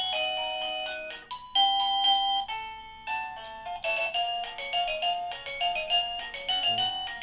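A Neon plug-in wireless doorbell plays a bright electronic chime melody up close, a run of clear repeated tones and ding-dong notes ringing out loudly with no talking over it.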